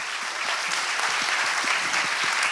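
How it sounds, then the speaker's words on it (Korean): A studio audience at a Korean talk show applauds steadily, a continuous even wash of many hands clapping throughout, fairly loud and close, with no talk over it. "박수 한번 주세요"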